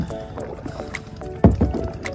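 Kayak paddles dipping and pulling through the water at a waterpark in Masbate, soft splashes and gurgles close by, with one sharper slap of a blade on the water partway through.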